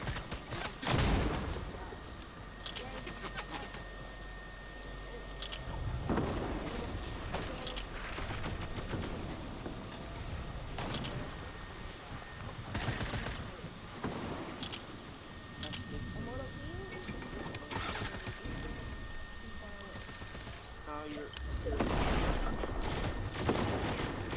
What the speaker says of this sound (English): Getting shot from multiple directions.